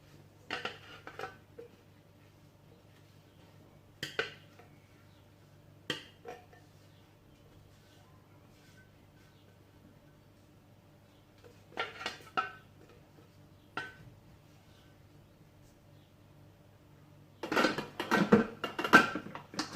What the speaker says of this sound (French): je vais pouvoir venir les retransvaser